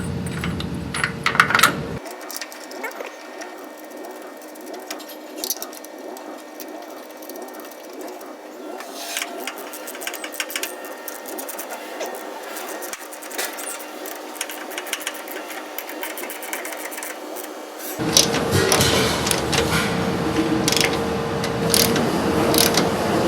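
Metal parts and tools clicking and ratcheting while a new master cylinder is bolted onto a 1965 VW Beetle, with quick, irregular close-up taps and rattles and busier clatter near the end.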